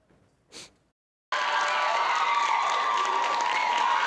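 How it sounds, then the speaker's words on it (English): Sustained applause and cheering fill the Phoenix City Council chambers after a 5-4 vote, a loud dense wash that starts abruptly and holds steady after a brief sound and a near-silent pause. "Phoenix Council chambers echoed with applause as the Phoenix City Council voted 5-4 to create an Office of Accountability and Transparency"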